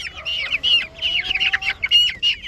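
A young Brazilian stag chicken, a male, clucks and chirps in quick bursts close up, with brief gaps between calls and a faint voice underneath.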